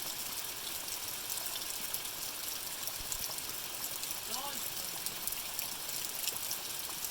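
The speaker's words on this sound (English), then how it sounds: "Wild rain." Heavy rain falls at night as a steady, dense hiss that fills the whole stretch, with a faint chirp or two of night creatures rising briefly partway through.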